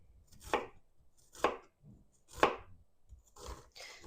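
A knife chops onion on a cutting board: three crisp, evenly spaced strikes about a second apart, then a softer pair of cuts, close and fairly quiet.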